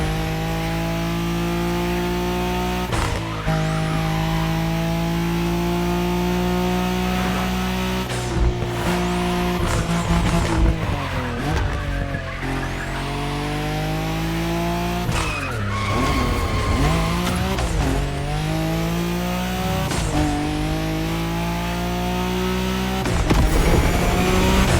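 A Lamborghini Aventador in The Crew Motorfest roars loudly with a high, rising and falling engine note, broken by repeated bursts of screeching tire squeal as it slides through corners.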